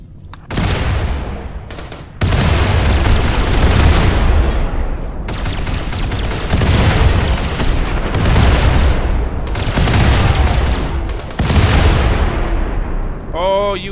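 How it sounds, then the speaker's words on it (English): Explosions and gunfire from Rimworld with a Warhammer 40k Imperial Guard setting rumble continuously in heavy, overlapping booms and bursts, loud and close, with several distinct blasts swelling through the battle. "I don't like all these explosions."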